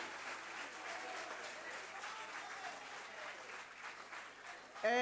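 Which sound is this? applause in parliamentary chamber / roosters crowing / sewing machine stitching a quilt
applause in parliamentary chamber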